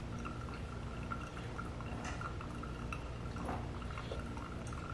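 A Ninja coffee maker brewing, with a continuous soft trickle of coffee dripping and pouring into the carafe, steady and close at low volume, with scattered small drips on top and no talking.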